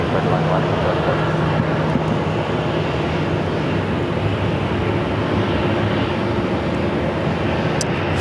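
A steady, loud roar of a jet airliner coming in to land on runway 8 at Phoenix Sky Harbor, broadband and continuous for the whole stretch with no talk over it.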